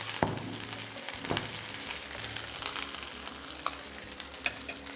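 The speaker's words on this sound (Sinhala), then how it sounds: "සුදු ලුණු ටික මේ විදිහට ටෙම්පරාදු වේගෙන එද්දී අපි රම්පේ කරපිංචා ටික එකතු කරගන්නවා." Garlic, pandan (rampe) and curry leaves fry in hot oil in a pan, giving a steady crackling sizzle with a few sharp pops and stirring scrapes, close and continuous with no talk.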